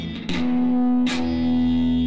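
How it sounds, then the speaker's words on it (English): Distorted electric guitar notes ring out with echoing delay and reverb from a Positive Grid pedal combination, a sustained gritty tone swelling after two picked attacks. "this combination delay, reverb, and distortion that I found buried away in the positive grid pedal section"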